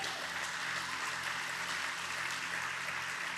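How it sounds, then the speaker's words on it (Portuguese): A church congregation claps together in a steady, dense roar of hands over a low sustained musical hum, unbroken from start to finish. "dê uma salva de palmas para Ele."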